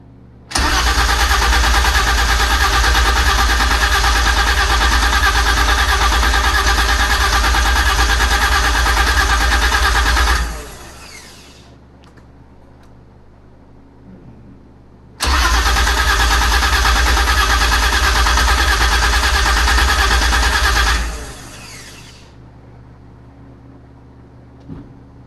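A V12 engine swapped into a BMW E30 cranks and fires twice, each time roaring loudly and steadily for about ten seconds before shutting off, with a short quiet gap between the two runs.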